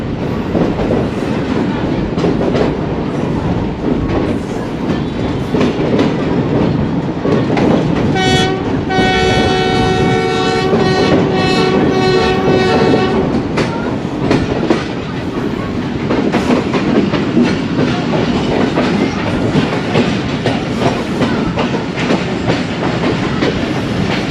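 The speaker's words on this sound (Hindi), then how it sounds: "ZCU के फियर्स विसल्स इधर बज रहे हैं बात के बीच में" A ZCU locomotive sounds a long, loud horn blast of several seconds over the steady rumble and clatter of a moving train on a Pakistani branch line near Lahore, the rail noise continuing alone afterward.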